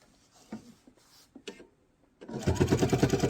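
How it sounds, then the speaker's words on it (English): A sewing machine stitches quilt binding around an unusual corner: a few soft handling taps and clicks first, then a steady, close, rapid mechanical whir of stitching for the last second. "I'm going to sew all the way down past my stitches where I started"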